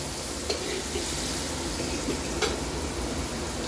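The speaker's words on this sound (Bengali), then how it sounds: "এবার নাড়া হচ্ছে, নাড়তে নাড়তে ভাজাবো।" Fish roe sour curry with mango, turmeric and salt frying in a pan while being stirred: a steady, even sizzle with a couple of faint scrapes of the spoon, no talking.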